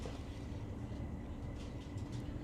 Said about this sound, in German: Ausfahrt aus Lübeck Hauptbahnhof.